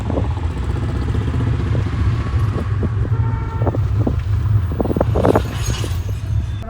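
Manual car engine droning and rising as a beginner driver gives it throttle, a steady close rumble with some clatter and wind noise, with no voices.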